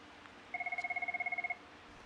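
A Cisco CUCM IP desk phone rings with one short burst of rapid electronic warbling pulses, clear and alone against a quiet room.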